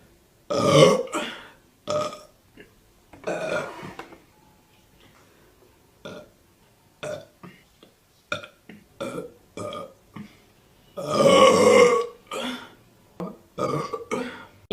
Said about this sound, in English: I forgot about your burps.